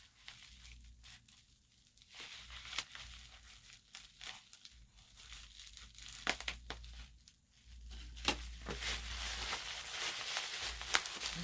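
Package being unwrapped, with tape and bubble wrap crinkling, tearing and rustling close by in irregular bursts at fairly low level, no talking.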